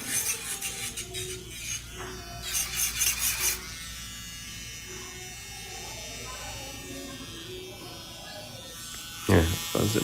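Electric nail drill with a sharp bit filing acrylic powder nail near the cuticle and natural nail bed, a steady high buzzing whine running throughout, close up, with a voice talking over it.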